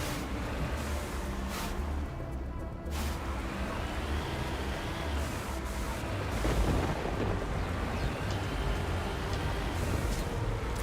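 Rockets exploding in Mass Effect combat: a steady, heavy rumble of blasts and booms, with a few sharper cracks early on and the intensity swelling toward the end.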